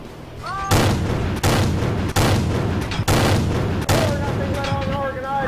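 Heavy repeated cannon fire from an M5 Stuart light tank in World of Tanks, five sharp, loud booms spaced roughly a second apart, each with a rumbling tail, while a voice talks underneath.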